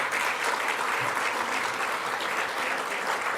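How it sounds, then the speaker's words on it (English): Steady, full applause from the audience at a CARICOM opening ceremony for a heads of government meeting, a dense wash of clapping that holds evenly throughout. "Let's give him a round of applause one more time."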